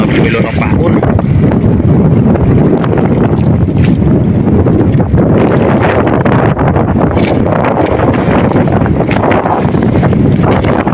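Strong wind roars and buffets the microphone without letup on a fishing trip, a dense rushing noise over open sea with whitecaps, with a voice speaking faintly beneath it.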